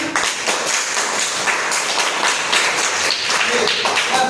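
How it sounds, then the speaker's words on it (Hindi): Audience at a B.Ed. community engagement program clapping steadily and loudly for the full stretch, a dense wash of overlapping claps with no clear pauses. "एक बार हम सभी के लिए जोरदार तालियां"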